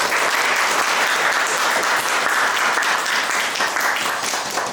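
A church congregation at a Sunday morning service applauds to welcome a new member, a dense, even wash of clapping from many people that holds steady and loud for nearly five seconds without talk.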